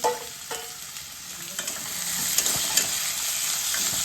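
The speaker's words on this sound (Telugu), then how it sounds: "నూనె వేడెక్కిందండి. ఇందులో సన్నగా తరిగి పెట్టుకుని ఉల్లిపాయలు వేయాలి." Finely chopped onions sizzling in hot oil for a stuffed okra curry, a continuous bright frying hiss with occasional stirring clatter that grows slightly louder as it goes on.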